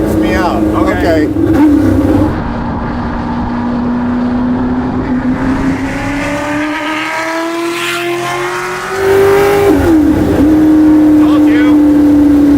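A Shelby GT350 on a canyon road revs hard, its engine pitch climbing and falling through several sweeps, loud and close from inside the car, with people speaking over it.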